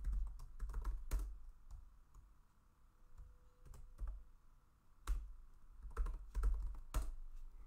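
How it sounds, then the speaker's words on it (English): Typing on a computer keyboard, with quick bursts of close key clicks and taps and short pauses between runs, no talk over it. "And then we're going to type in our username"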